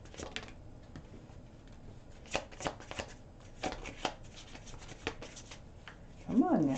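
Tarot cards being shuffled by hand during a reading, a steady close run of soft riffling and slapping taps with a few sharper snaps, then a brief voice at the end.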